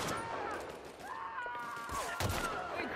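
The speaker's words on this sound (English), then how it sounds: "Let's give this sniper a go, shall we?" A sniper rifle in the video game The Outer Worlds fires a single sharp shot, with whining tonal game sounds around it, all fairly quiet.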